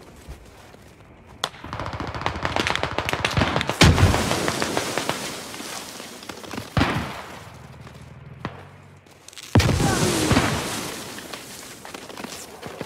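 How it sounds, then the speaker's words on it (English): Mortar rounds from the game Squad land in a series of about four heavy, booming blasts spread across the stretch, with scattered crackling gunfire and rumble filling the gaps between impacts. "Is that mortars? Or is that grenade? It's mortars."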